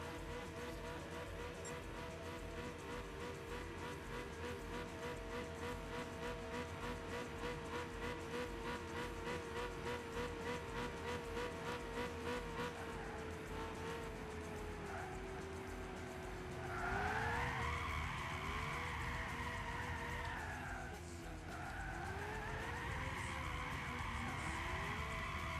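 A 1965 Shelby GT350 drifts in Gran Turismo 6, its engine droning steadily before the tires break into a loud, wavering squeal that cuts out briefly and then resumes.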